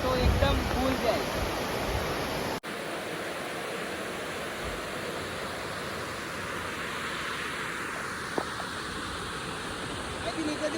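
Water pours over a full dam in a broad, steady roar of rushing overflow, continuous and fairly close, with a brief cut early on and no voices.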